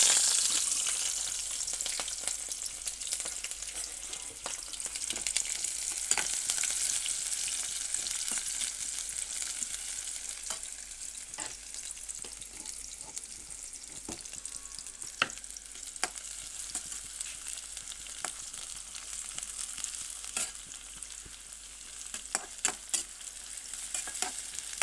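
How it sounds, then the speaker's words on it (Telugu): Onions fry for chicken curry in a pan, giving a continuous close sizzle with scattered scraping clicks of stirring and no talk. "ఆనియన్స్ త్వరగా ఫ్రై అవుతాయి"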